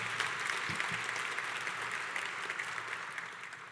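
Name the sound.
audience applause for the council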